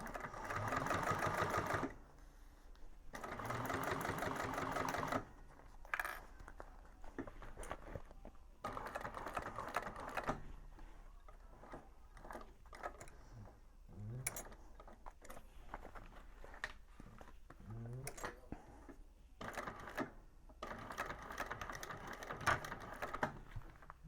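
A sewing machine top-stitches a Scottie Convertible Bag in bursts of rapid, rhythmic needle chatter, with short pauses and faint handling noises between runs, and no talking.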